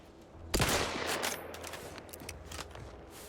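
Gunfire in The Outer Worlds 2: a sudden sharp burst of shots fires up close, then a few fainter cracks and trailing rattles in quieter game ambience.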